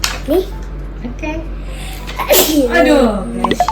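A single sharp sneeze sounds close and loud, with a voice talking around it during an Indonesian children's reading lesson.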